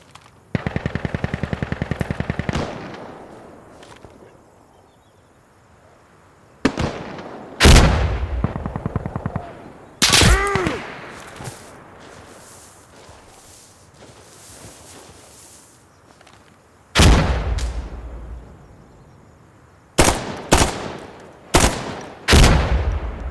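Gunfire in the tactical shooter game Insurgency Sandstorm: a sustained automatic burst opens, then scattered single shots and short loud volleys crack out across the clip, with quieter stretches of ambient noise between them.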